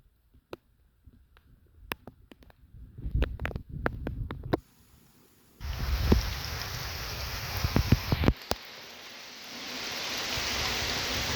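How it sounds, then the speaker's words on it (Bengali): Rain falling heavily, picking up pace: scattered knocks and taps at first, then a dense, steady hiss of rainfall that swells and continues to the end. "বৃষ্টির গতি বেড়ে গেছে"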